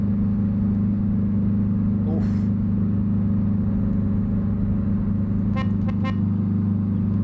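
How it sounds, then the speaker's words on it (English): A car drives past outside with a steady, droning engine hum. Two short horn toots sound near the end. "wait till this car's gone by"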